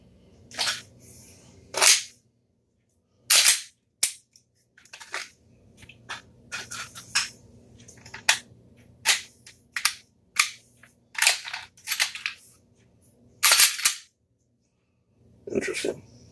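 A pistol is worked through dry-fire practice in a quiet room: sharp isolated trigger clicks and metallic magazine changes come in a loose, irregular rhythm, separated by short silences and handling noises.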